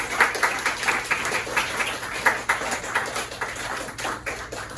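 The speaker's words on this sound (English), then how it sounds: "thank all of you for the round of applause" A luncheon audience gives a steady round of applause, with dense crisp claps and a few sharper individual hits, sustained and close without any talking.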